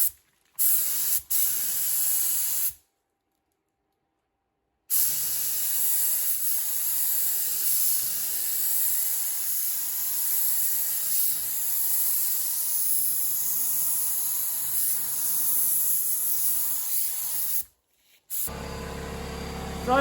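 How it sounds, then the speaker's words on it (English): A spray gun lays paint onto a BMW E36 car body in long, steady hissing bursts, loud and close, with two short silent breaks between passes; no speech. "So we're just gonna spray it"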